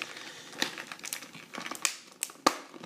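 Plastic blister pack being opened, close crinkling and crackling of stiff plastic with sharp little snaps and clicks in an irregular run.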